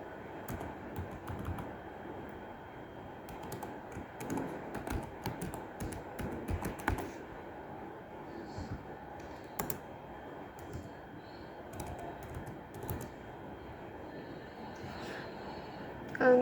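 Quick, irregular keystrokes on a computer keyboard as a password and email are typed into a web sign-up form, steady clicking running the whole time at moderate, close level with no talk.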